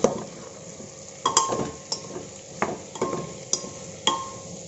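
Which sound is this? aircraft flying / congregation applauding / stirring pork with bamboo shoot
stirring pork with bamboo shoot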